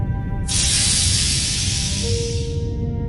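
A loud, close snake hiss bursts in suddenly and holds as a steady breathy rush for about two seconds before fading, set over a low musical drone.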